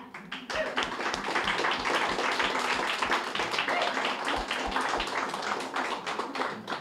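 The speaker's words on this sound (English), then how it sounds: "So I just want to have another big round of applause for everybody here." A big round of applause from a crowd at a contributors' party in New York City, dense and steady clapping lasting several seconds.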